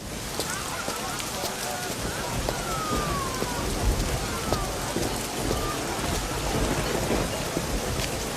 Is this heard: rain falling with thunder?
yes